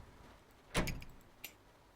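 A train door in the Train Sim World 2 railway simulator on the Isle of Wight line gives a short mechanical clunk and slide, followed by a faint click, with no one talking.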